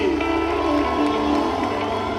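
A church congregation ululates and cheers together, a dense, sustained crowd roar with a high trilling voice riding on top throughout.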